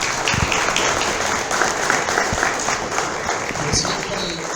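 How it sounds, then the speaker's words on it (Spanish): An audience breaks into sustained, loud applause to welcome the journalist and author Francisco Cruz at a book presentation, a dense wash of many hands clapping steadily throughout with a faint murmur underneath. "vamos a recibir primero a Francisco con un fuerte aplauso"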